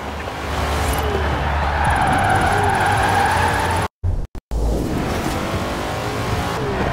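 A car drifts in Forza Horizon 4's drift zone, tires squealing in a long sustained screech over a steady engine roar, loud and close, with two brief dropouts near the end.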